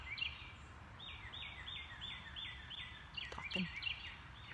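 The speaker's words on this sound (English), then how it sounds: "Birds are here." Repeated bird calls sound outdoors, a steady series of short high chirps at moderate distance over soft background noise.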